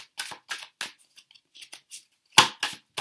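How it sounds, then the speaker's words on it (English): A deck of tarot cards being shuffled, with a series of crisp, close snapping and riffling bursts in an irregular rhythm separated by short silences. "I know that these cards get super loud"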